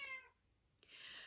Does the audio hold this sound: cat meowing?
yes